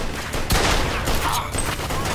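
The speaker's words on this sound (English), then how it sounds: "Joe rocking the Tommy Gun out there" Tommy Gun fire in the video game Mafia 2, a quick burst of rapid automatic shots followed by scattered further gunfire at moderate level.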